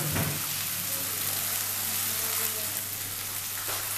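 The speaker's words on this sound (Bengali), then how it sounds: "যেগুলো কড়াইশুঁটি বা মটর, একসাথেই আমার এটা ভাজাও হয়ে যাবে এবং নরমও হয়ে যাবে" Green peas frying in a wok, a dense, even sizzle throughout with a low hum beneath.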